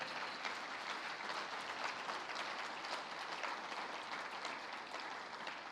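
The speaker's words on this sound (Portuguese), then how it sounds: "Você pode aplaudir ao Senhor?" Church congregation applauding at a worship service, a dense, steady wash of many hands clapping together that holds at an even level for the whole stretch, with no talk over it.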